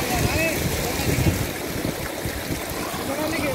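Water gushes steadily from a tubewell in India, a continuous rushing flow close by with faint voices in the background.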